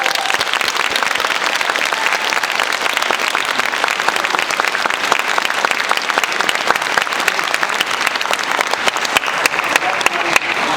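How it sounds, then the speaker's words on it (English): Loud, sustained applause from an audience at a submarine veterans' Holland Club induction ceremony, honoring inductees on stage, with dense overlapping claps and a few distinct close hand strikes running for about ten seconds. "let's give them a round of applause"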